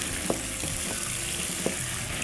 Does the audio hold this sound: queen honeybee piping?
no